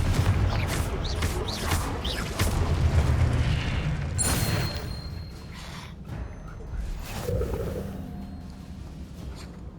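Confringo spell blasts go off during a Hogwarts Legacy fight: several booming bursts in the first seconds build to a sharp, loud hit, then die away into softer game ambience.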